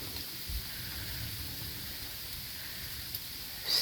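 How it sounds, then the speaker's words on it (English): Rain falls during a February thunderstorm as a faint, steady hiss heard from a distance, with a couple of soft low bumps. "you can hear it raining."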